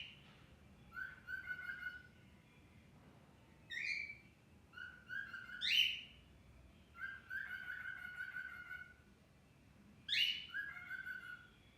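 A pet bird chirps and whistles in repeated bright, rising calls in short bursts, close and clear over a faint background hum, with no talking.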